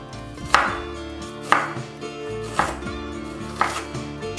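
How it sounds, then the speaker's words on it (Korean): A knife finely chops half an onion on a cutting board, with four evenly spaced, crisp chops over soft background music. "그 다음 양파 2분의 1개를 잘게 썰어줍니다"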